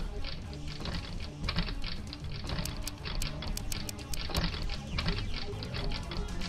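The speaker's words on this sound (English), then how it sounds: "I put my phone down and resume typing into Moeka's phone." Rapid button taps on a phone keypad in the visual novel game Steins;Gate, quick bright clicks in uneven bursts over a dense, steady background bed.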